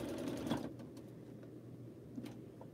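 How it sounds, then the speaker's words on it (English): A sewing machine stitches quilt pieces together in a short, quiet burst of motor whir and needle chatter, then slows and settles into softer mechanical hum, heard alone without voices. "And I'm sewing the pieces together"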